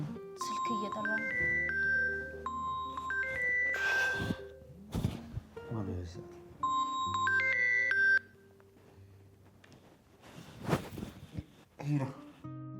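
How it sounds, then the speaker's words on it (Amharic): A telephone rings with a repeating melodic ringtone of bright electronic tones in an indoor scene, interrupted by short bursts of other noise and voices. "ስልክ እየጠራ ነው።"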